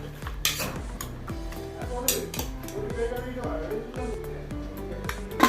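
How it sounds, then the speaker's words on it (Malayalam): A metal spoon scraping and clinking against a pressure cooker while stirring jackfruit curry ingredients with turmeric, chilli powder, salt and water, in rapid repeated strokes up close. "ഒന്ന് ഇളക്കി കൊടുക്കാം"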